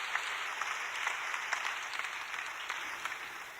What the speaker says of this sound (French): applaudir bien fort